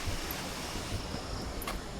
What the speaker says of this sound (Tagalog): Malakas ang ulan, malakas ang hangin.